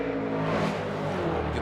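Monster Energy Nitto Tire Ford Performance Mustang RTR drift car at Irwindale qualifying, its exhaust a loud, steady, sustained engine roar under full throttle with no pauses.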